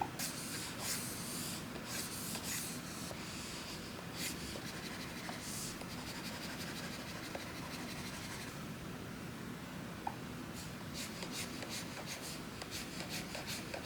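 A stylus draws quick strokes across the surface of a UGEE drawing tablet. It makes soft, scratchy swishes in short bursts, quiet and close, with pauses between groups of strokes.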